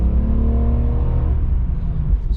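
A 2001 BMW 330xi with the 3.0-litre M54 six and an aFe cold air intake pulls hard under acceleration, its deep, steady engine rumble loud and close from inside the car, with no talking.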